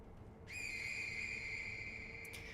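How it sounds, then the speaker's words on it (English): A sustained, steady finger whistle from the Malcontent prosthetic tool in the video game Sekiro, sounding as a single long, clear tone that cuts off sharply, with no talking over it. "This one is a upgrade to the finger whistle, where it actually doesn't affect beasts, but it affects apparitions instead."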